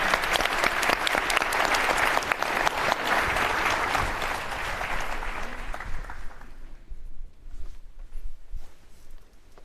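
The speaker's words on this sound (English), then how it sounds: "Please give a big round of applause to our inspiring panel." A conference audience gives a keynote panel a big round of applause, dense and loud clapping for about six seconds before it thins out and fades to scattered claps.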